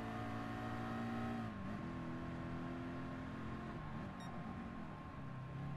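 Mercedes-Benz SLR engine in the racing game Gran Turismo Sport, a steady sustained hum that shifts pitch as the revs drop and settle, loud and continuous throughout with no talking.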